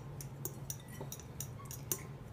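Paleo biscuit dough being mixed in a bowl, with light scattered clinks and taps of a utensil against the bowl over a low steady background hum, faint and close.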